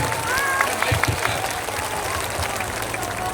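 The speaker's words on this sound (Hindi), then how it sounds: "अब बजा लीजिए ताली" A crowd applauds at a political speech in Bihar, with steady, moderately loud clapping running throughout and a voice speaking over it.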